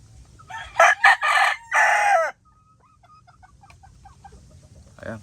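A Hatch Grey gamefowl rooster at a backyard breeding farm lets out a loud, close crow in several bursts, followed by softer clucking and chirping from other fowl nearby.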